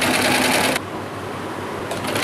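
A sewing machine stitches a seam through net fabric, running as a continuous rapid rattling hum that dips to a softer, slower pace midway before speeding back up.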